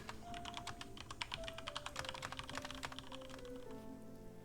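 Rapid computer keyboard typing in a colony video game, a quick run of crisp keystroke clicks over low sustained background tones.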